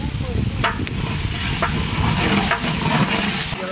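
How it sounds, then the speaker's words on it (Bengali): Goat trotters go into roasted spice masala for paya nihari: loud, steady frying sizzle and crackle, close up, with scraping stirring sounds throughout. "মশলাটা ভোনা হয়ে গেছে আমি পায়াটা দিয়ে দিলাম"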